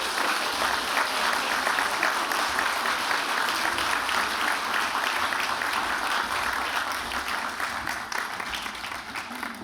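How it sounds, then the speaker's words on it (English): Sustained applause from a large audience for graduates at a spring convocation ceremony, a dense, even wash of clapping that fades slightly toward the end. "join me in a huge round of applause for our amazing graduates"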